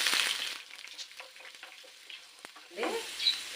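Chillies, chana dal and crushed garlic frying in oil for a tempering, a close, hissing sizzle with light scraping stirs that fades a little midway and then swells again.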